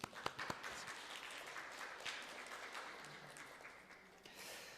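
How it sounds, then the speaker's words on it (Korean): A church congregation applauds during a Sunday worship service, celebrating members' birthdays; quiet, distant clapping, a few sharp claps standing out at the start, then a soft steady patter that fades slightly toward the end. "우리 같이 박수"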